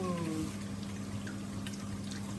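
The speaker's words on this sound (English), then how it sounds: "so I'm gonna go ahead and add my wine." White wine poured into a hot pan of green mussels in a creamy wine sauce, a steady close liquid pour and trickle over a low sizzle, alone without talk.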